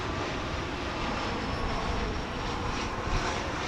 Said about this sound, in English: It's a 16-year-old 747-409